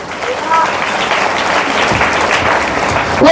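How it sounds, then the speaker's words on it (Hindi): Loud applause from a church congregation during a sermon on prayer, a thick, sustained wash of clapping that holds steady throughout, with faint voices mixed in beneath it. "जोरदार ताली बजा के"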